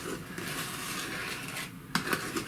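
A spoon mixes flour into liquid ingredients in a bowl for Birchermüesli soda bread, giving soft, steady scraping and stirring with a few light clinks against the bowl near the end.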